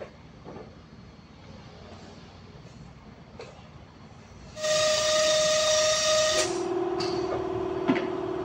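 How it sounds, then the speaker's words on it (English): A vehicle horn sounds loud and close during a check under the hood, one sustained blast followed by a lower tone, after a stretch of quiet background hum; no one speaks. "tinitik din po natin yung busina"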